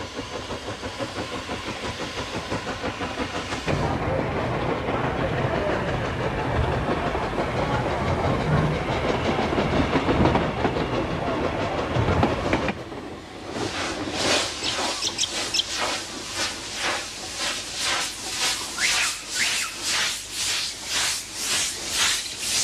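A train rumbles along the rails of the Pichi Richi Railway in the Flinders Ranges, a loud continuous roar that shifts partway through into a rhythmic clatter of wheels over track joints.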